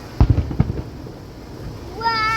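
Firework blasts during a 4th of July show: a cluster of sharp booms early on, then a rising crackle of bursts toward the end, with a busy crowd atmosphere behind.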